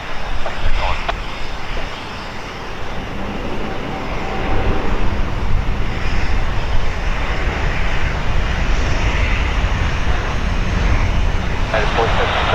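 A jet airliner rolls for takeoff on runway 28 right at Portland airport, a steady, loud engine roar that swells slightly partway through and holds, with a faint voice speaking over it.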